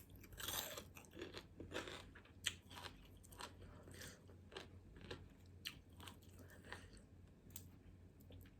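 Crunchy homemade Thai pork cracklings are chewed close up, with steady, irregular crisp bites and crunches repeating throughout at a quiet level.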